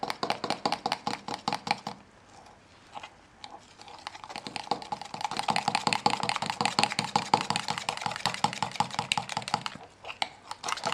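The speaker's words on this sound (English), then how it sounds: "now I'm going to add a half cup of flour. And I'm going to stir this well to mix it" A spoon stirs half a cup of flour into dissolved yeast in a bowl for homemade pizza dough, making fast, steady, rhythmic scraping strokes that continue throughout, with no talking.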